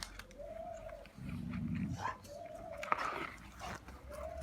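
A dog growls low and throaty for about a second amid faint outdoor background, with soft whines and rustles around it.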